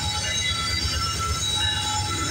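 A westbound CPKC freight train led by CP 8112 rolls past at Guelph Line in Campbellville, Ontario, with loud close rumble, rhythmic wheel thumps and a thin high squeal over the cars.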